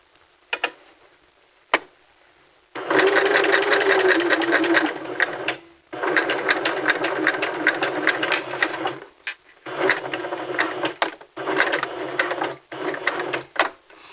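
Sewing machine stitching the side hem of a caftan with a quarter-inch stitch, running in loud steady bursts with brief pauses between, close by and alone without talk.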